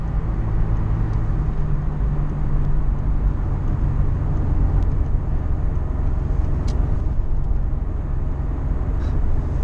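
Interior of a Ford Sierra RS Cosworth driving on the road, a loud continuous low engine drone and road rumble holding steady throughout, with occasional faint clicks and no talking.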